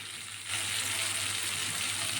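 Vegetables sizzle and fry in a hot pan for egg fried rice, a steady close hiss that jumps louder partway through as the pan heats up, with no talking.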